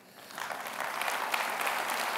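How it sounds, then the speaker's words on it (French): Audience at a Paris innovation summit keynote breaks into applause, swelling quickly from quiet into a dense, sustained roar of clapping hands. "C'est vous qui méritez les applaudissements."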